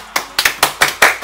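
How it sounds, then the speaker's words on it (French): A small group claps in a quick burst of about seven loud, close handclaps with short gaps, at a casual indoor boys' talk show in French. "Applaudissez."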